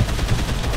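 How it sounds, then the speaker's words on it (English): AK rifle firing in Dead Island, a rapid burst of loud, close automatic gunshots filling the short moment. "I'm shooting him with AK in the back."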